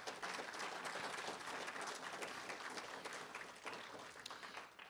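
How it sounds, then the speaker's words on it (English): An audience gives a big round of applause for Syrian refugees who prepared lunch, a dense wash of clapping that is steady and moderately loud, then slowly thins out. "Could we give them a big round of applause?"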